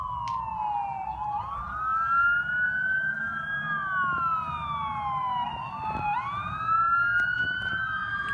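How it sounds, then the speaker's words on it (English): A fire truck siren wails at a fire scene with repeated rising and falling sweeps, and a second siren overlaps it. The sirens sound loud and fairly near over a low background rumble of engines. "There's the fire truck."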